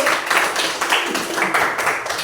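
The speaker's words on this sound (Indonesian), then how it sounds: "Oke, tepuk tangan dulu untuk kelompok 1." A classroom of students claps for the first group about to present, a quick, rhythmic run of close, sharp handclaps in repeated bursts.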